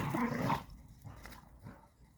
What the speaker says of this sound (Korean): 강아지들이 눈 위에서 열심히 놉니다.